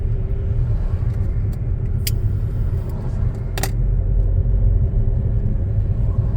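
A car engine hums low and steady while driving in second gear on a road at modest speed, a constant rumbling drone with a couple of brief light clicks.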